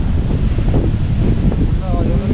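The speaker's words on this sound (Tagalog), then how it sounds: "Bigla na lang naging mahangin. Todo hangin." Strong wind gusting on a coastal road between Dingalan and General Nakar, Quezon, a loud steady roar buffeting a GoPro microphone, with people talking underneath.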